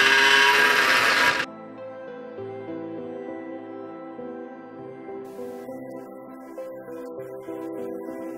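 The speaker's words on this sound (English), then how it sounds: "I stepped up my drill bit, and I'm going to work my way up." Power drill with a stepped-up bit cutting into a steering knuckle, a loud, harsh whine that cuts off abruptly, leaving a quieter steady machine hum with faint background noise.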